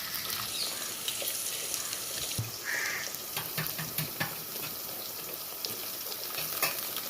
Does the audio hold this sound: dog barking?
no